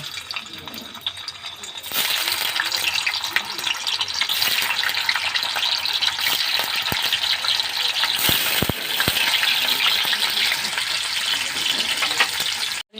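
Paneer cubes fry in white oil with a bright, continuous sizzle that jumps up suddenly and holds, broken by a few sharp clinks and scrapes of a utensil toward the end.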